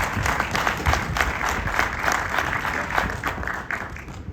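Crowd applause at a groundbreaking ceremony for The Dale, a steady wash of many hands clapping outdoors, fairly loud and continuous with no talk over it.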